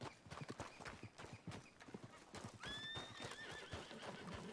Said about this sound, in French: si mon cheval voulait bien bouger son cul pour venir, ça me ferait plaisir aussi